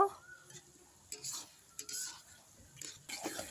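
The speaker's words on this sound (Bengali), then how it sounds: "টমেটোটা দিয়ে দিয়ে একটু নেড়ে নেব" Tomato being stirred with ginger and garlic in a pan for a Bengali chicken and potato curry, with soft intermittent scraping strokes and light sizzling, a few clearer stirs standing out over a quiet background.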